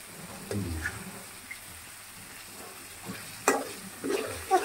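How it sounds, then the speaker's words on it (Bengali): Meat frying in a pan with spices, with soft sizzling and stirring scrapes that swell into louder bursts near the end, heard close and alone without talk. "মাংসের মশলা দিয়েই রান্না করছি"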